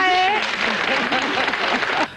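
A television studio audience applauds at a 2004 show with Isabel Pantoja, brief lively clapping over a crowd, with a sung or called voice at the start.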